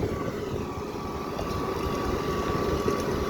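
A Massey Ferguson 3060 tractor hauling a load of sheep manure on a rough road, its engine a steady, loud diesel drone with rumbling low tones throughout.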